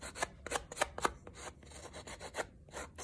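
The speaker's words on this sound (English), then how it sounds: "you are sanding that chipboard too" Short scraping strokes of sandpaper or an emery board on the edge of a chipboard tag, repeated in an uneven rhythm, close and fairly quiet with no talking.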